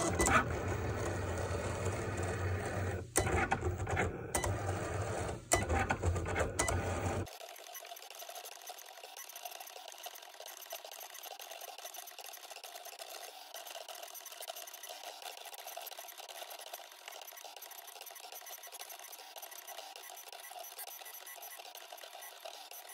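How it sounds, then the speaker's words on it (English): A Cricut cutting machine runs with a loud, busy mechanical whir and rattle for about seven seconds, then cuts off and leaves only a faint steady hiss. "I'm going to hit the Cricut button, and then the machine will start"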